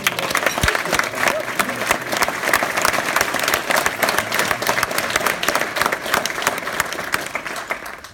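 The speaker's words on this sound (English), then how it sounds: "Please give her a round of applause." A gathering honoring Greg claps in a full, lively round of applause, crisp individual claps layered into a steady loud roar that carries throughout without any speech.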